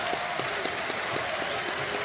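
An NBA basketball crowd at a Cleveland Cavaliers at Detroit Pistons game claps and cheers as the Cavaliers dribble out the shot clock, a steady wash of applause with rhythmic claps, heard at moderate distance with an announcer talking over it.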